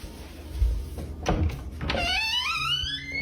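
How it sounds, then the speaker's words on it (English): A basement door opens with a thud, then a rising creak that stretches into a long, high squeal, loud and close, with no voices. "as if the basement door sounds like that"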